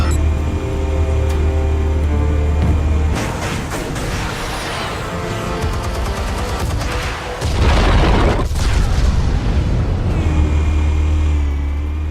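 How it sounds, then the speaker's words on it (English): Explosives detonating in Batman The Telltale Series video game, loud rumbling booms and crashing bursts over a constant low drone, continuous and close for about twelve seconds. "Explosives armed. Fire when ready."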